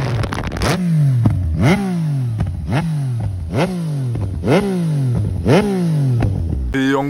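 A motorcycle engine revs repeatedly in sharp bursts, about seven throttle blips rising and falling in a steady rhythm, loud and close.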